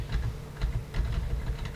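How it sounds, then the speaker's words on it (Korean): Soft computer keyboard clicks, a key pressed in Mastercam 2021 software, tap out in an irregular rhythm, close and quiet, over a low steady hum. "제가 키보드 S 누르고 있습니다"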